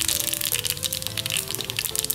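Mustard seeds crackle in hot coconut oil while tempering an Onam sadya koottucurry, a busy stream of sharp little pops and spits over a steady frying hiss, close by and moderately loud.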